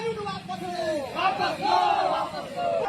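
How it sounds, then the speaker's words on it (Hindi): Angry crowd of protesters shouting slogans together on the street during a nationwide trade-union shutdown in India, loud overlapping voices rising and falling in chanted bursts throughout. "सड़कों पर ये शोरगुल"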